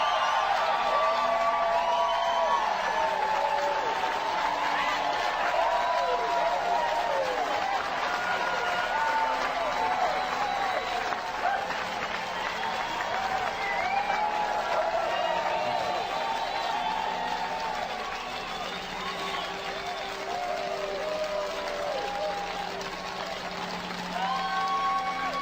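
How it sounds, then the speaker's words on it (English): An audience at a motivational speech breaks into sustained applause mixed with cheering and whoops, a dense crowd roar that stays loud throughout and eases slightly toward the end. "Give yourselves a round of applause."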